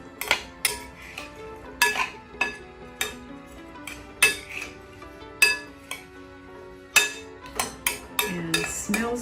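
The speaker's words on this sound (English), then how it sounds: "we're going to give it a stir to coat everything with the seasoning" Radish salad tossed with seasoning in a bowl, a spoon knocking and clinking against the sides in irregular sharp taps, close by with no talk.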